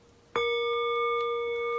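A single meditation bell is struck once, its clear ringing tone sustaining steadily with several bright overtones and no decay by the end.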